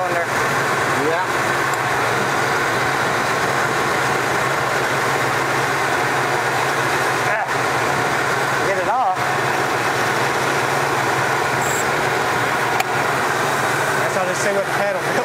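A 1977 Lincoln Continental barn find, its engine idling after starting, a steady low rumble that holds throughout with a brief dip or two, while a voice talks over it.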